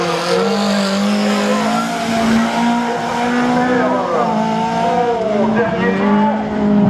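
A Citroën BX race car, number 57, runs a slalom course, its engine note rising and falling through gear changes with tire squeal on the turns, heard close and loud, with an announcer speaking over it.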